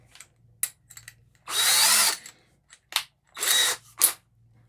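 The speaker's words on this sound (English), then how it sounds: "I'm gonna drill through this with this drill bit." A power drill with a bit bores through material in short bursts, two longer whining runs among brief starts and clicks, close and loud with quiet gaps between.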